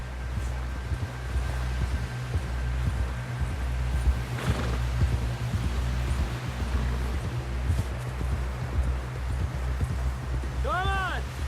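Horse hooves clip-clopping at a steady walking rhythm in Red Dead Redemption 2, faint to moderate over a low ambient hum and rustle, with a brief musical flourish at the end.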